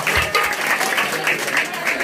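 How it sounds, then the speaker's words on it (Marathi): A temple audience claps loudly and steadily in a continuous burst of applause, with a faint murmur of crowd voices beneath it. "एकदा त्यांच्यासाठी जोरदार टाळ्या वाजवा"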